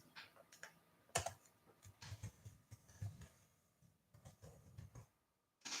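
Typing an email address on a computer keyboard, a faint, steady run of soft key clicks in a quiet room with low background noise and no talking.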